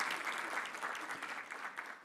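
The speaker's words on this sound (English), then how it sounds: "another round of applause for Claudia" A dense, steady wash of audience applause fills a conference hall at a construction law event. Many hands clap together at moderate volume, with no single clap standing out.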